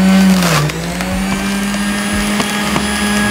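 An electric juicer motor runs loudly and steadily, whirring up then settling into a constant hum, with faint crunching as carrots are fed through; no one speaks.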